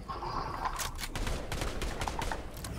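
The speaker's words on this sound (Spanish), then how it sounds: "yo no oigo más que tiros por todos los lados" Dense, rapid video game gunfire in Fortnite crackles continuously from all around, bursts overlapping with no pause, like a chaotic firefight.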